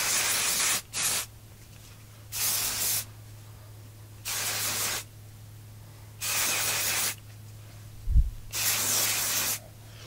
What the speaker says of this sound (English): Monat, the Champ Conditioning Dry Shampoo.